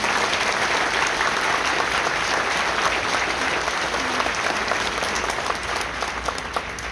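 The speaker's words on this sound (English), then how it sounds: "Let's give him another round of applause." Sustained applause from a banquet crowd at an Honor Flight pre-flight dinner for veterans, steady and dense clapping filling the room for the whole stretch without any speech.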